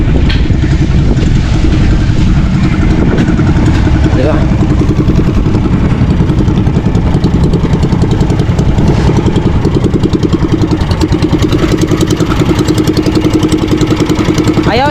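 A repaired motorcycle engine idles loudly and close by in a steady, rapid chugging rhythm throughout, with someone talking briefly over it.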